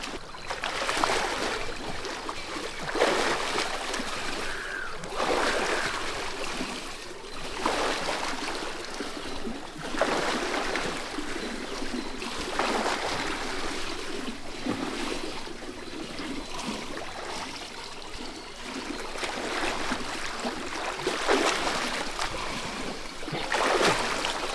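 Someone swimming breaststroke, with rhythmic splashes and water surges repeating every couple of seconds as the kick and pull combine, steady and fairly close.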